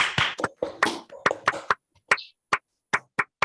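A group claps together in sharp, uneven bursts that thin out into a few distinct single claps with pauses between them.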